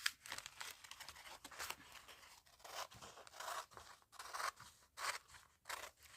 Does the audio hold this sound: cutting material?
yes